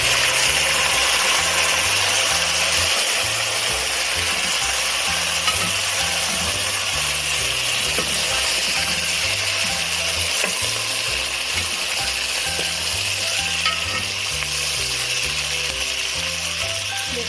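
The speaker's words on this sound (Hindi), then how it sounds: "अब हम इसके अंदर ये सारी भरी हुई मिर्ची डाल के फ्राई करेंगे थोड़ी देर तक इसको" Stuffed green chilies fry in hot oil for Hyderabadi mirchi ka salan, a loud continuous sizzle with a low pulsing hum beneath, no talking.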